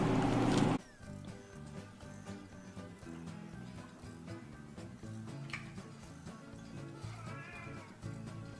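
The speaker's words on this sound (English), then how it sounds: "Dang nabbit cat, you're gonna be down the menu next week if you don't shut up" A cat meows a few times over a steady bed of background sound and music, fairly close and moderately loud.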